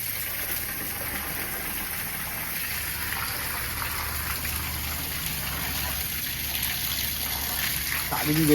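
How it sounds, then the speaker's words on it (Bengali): Water pouring from a pipe onto the floor and walls of a house under construction, flooding them to settle the soil: a steady close rushing gush that runs throughout and swells slightly near the end, with no talk. "বেশি করে জল দিয়েছি ওয়ালেও দিয়েছি প্লাস ঘরেও দিয়েছি যাতে মাটিগুলো বসে"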